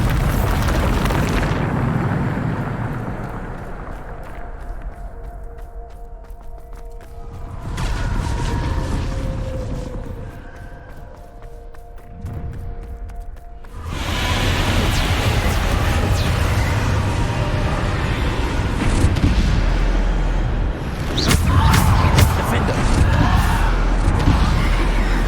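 A Bombarda explosion spell in the Hogwarts Legacy video game goes off as a loud, sudden burst. Rumbling, crackling debris and game music follow, with a second heavy impact later on.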